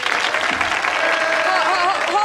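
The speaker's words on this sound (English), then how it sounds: "Hold the applause till I finish," Studio audience of a TV sketch comedy show clapping and cheering, a dense, loud burst of applause throughout, with a host's voice talking over it.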